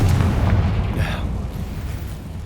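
Bombarda and Confringo spell blasts in the video game Hogwarts Legacy, a deep booming explosion with a bright burst rumbling away over a couple of seconds.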